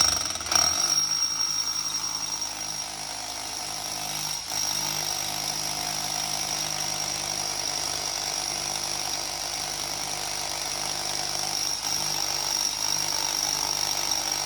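A power drill bores a hole through a wall while an AC unit is installed: a continuous loud grinding whine runs steadily the whole way, with a brief catch near the start and another around the midpoint.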